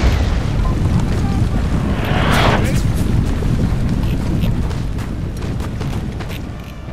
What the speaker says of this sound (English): I move up my musketeers, and they are under heavy artillery fire.